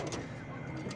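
A large female pigeon of a giant breed, kept in a backyard loft, gives a low soft coo, close and steady over a brief second of murmuring.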